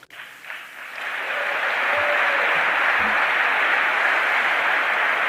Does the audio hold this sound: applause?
yes